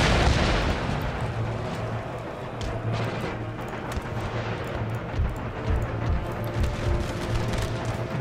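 Distant musket volleys and rumbling artillery from an Empire Total War battle between Danish and Mughal troops, rolling booms and scattered pops over a low drone, with a voice talking over it.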